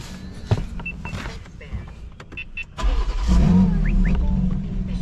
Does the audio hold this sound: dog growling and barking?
no